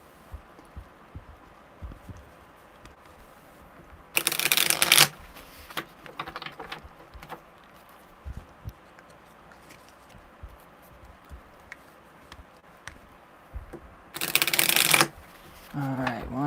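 Tarot cards riffled and shuffled by hand during a live reading, in two separate close bursts about ten seconds apart, with light card handling and quiet room tone between them.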